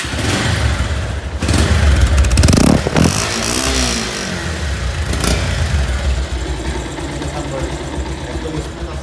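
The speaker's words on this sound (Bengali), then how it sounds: "তো বাইকটি এবার সাউন্ড কোয়ালিটি আপনাদেরকে দেখাবো।" A motorcycle at a used-bike dealer idles close by with a steady, chugging rumble, broken by a few loud thumps and a brief rev partway through.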